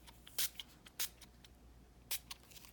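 A can of spray paint gives a few short, quiet hissing bursts, three of them more pronounced than the rest, spaced irregularly against a faint background with no talking.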